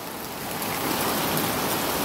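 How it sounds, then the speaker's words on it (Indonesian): Heavy rain pours down steadily on a transmigration village in Borneo during high tidal flooding, a dense close hiss of water hitting surfaces with no voices. "hujan deras dan disertai banjir pasang tinggi"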